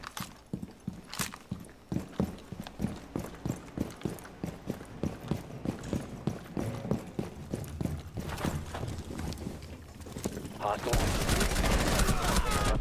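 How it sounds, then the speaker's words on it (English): Rapid, evenly spaced shotgun blasts from Buck in Rainbow Six Siege, a steady string of sharp reports over roughly ten seconds, ending in a loud, dense burst of noise. "I kinda get used to Buck's range now with the shotty"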